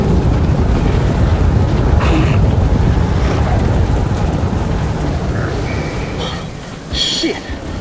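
A loud, steady roar of rain and wind from a storm in the video game Metro Last Light Redux, with brief whistling gusts and crackles near the end, no voices.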